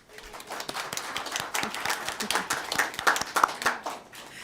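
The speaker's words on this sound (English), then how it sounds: "Let's give a round of applause" A small audience at a Nevada Senate natural resources committee meeting gives a light, scattered round of applause for a former senator. The individual claps are distinct, fairly quiet and uneven, with one or two faint voices.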